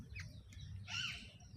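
A few high, bright bird chirps ring out over a steady low rumble of outdoor background noise at a writers' conference venue, fairly soft and brief.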